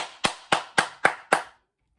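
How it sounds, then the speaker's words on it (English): Six sharp, evenly spaced hand claps from a single person, close and dry, followed by silence. "Give a round of applause to Nathan for that one."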